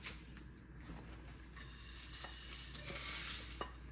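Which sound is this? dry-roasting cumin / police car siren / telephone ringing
dry-roasting cumin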